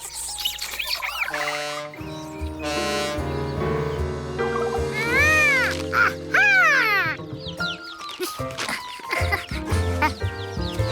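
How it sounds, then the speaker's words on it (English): Cartoon chicken clucking in distress, a series of squawking, warbling bird calls with rising and falling pitch, loud and close, followed by chirping chick-like peeps with no talk. "That sounded like a chicken in trouble."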